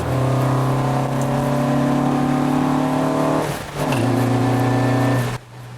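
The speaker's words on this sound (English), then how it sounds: "The sound of this car just gets me smiling all the time." A 1992 Honda Civic EG9 engine drones loudly and steadily at high revs, dips briefly, then climbs back before cutting off near the end.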